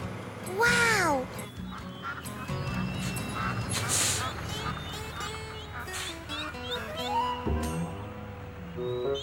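Cartoon ducks quack in bursts at a roadside duck crossing, loud and close, mixed with speech, a vehicle and animated sound effects.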